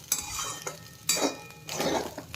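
Rice fried in a little oil is stirred in a pan with three distinct scraping strokes of a utensil against the metal, each followed by a soft sizzle, heard close and alone.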